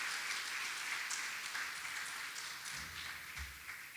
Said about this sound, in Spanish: Un aplauso de nuevo.